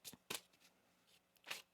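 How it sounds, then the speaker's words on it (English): Tarot cards are shuffled by hand in a few quick, crisp riffling bursts, close and fairly quiet, with short pauses between them and no talking. "One more shuffle here."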